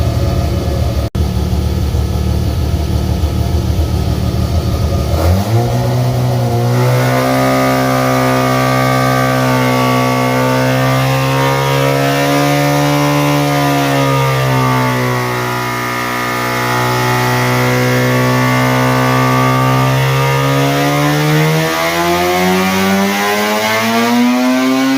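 A high-power big-port Mazda 13B rotary engine, built for SCCA E Production racing, runs on a motor dyno indoors, starting from a sharp bark and then holding a loud, steady, buzzing drone with slight pitch swells.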